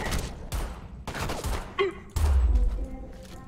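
Gunfire from the shooter game Homefront: The Revolution, a handful of sharp, punchy shots in separate bursts with a heavy low thump, loud and close and heard without any talk.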